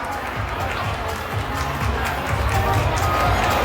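An audience at a Watsons Thailand event claps and cheers for the company's managing director, a continuous crowd roar that swells toward the end, with a voice speaking over it.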